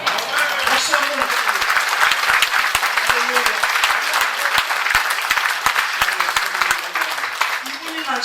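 Audience applause at a rally in New York, steady dense clapping from a crowd that carries on for several seconds, loud and close, with a voice speaking over it.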